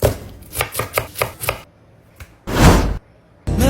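A knife chops an onion on a board in a quick rhythmic run of about six close, distinct strikes, then goes quiet before a longer scraping burst and another short stroke.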